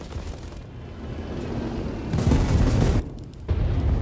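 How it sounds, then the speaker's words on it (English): Bombs dropped from a PBM-3 bomber detonate in War Thunder, a rumbling blast swelling into a loud, broad roar that cuts off, followed by another heavy burst, all over a steady engine drone. "Dropping bomb load."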